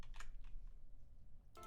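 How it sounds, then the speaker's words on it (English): Keys clatter on a new computer keyboard in a few quick bursts of typing, separated by a quiet pause, faint and close. "I'm blaming this on the new keyboard"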